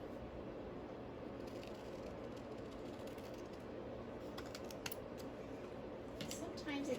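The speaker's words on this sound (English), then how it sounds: "I'm going to cut out this polka dot." Scissors snip through polka dot paper while cutting out a shape for an interactive Valentine card, a steady run of small crisp cuts close by under a quiet room background.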